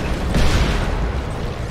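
Artillery fire in the video game Crysis 3: a continuous heavy rumbling boom that holds loud for under two seconds, with a stronger burst near the start and no talking.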